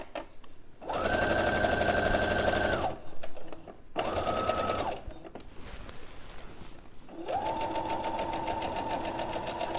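A sewing machine stitches a cushion seam in three separate runs: a long steady whirr, a shorter burst, then another sustained run. It is close and clear, with faint handling noise in the pauses.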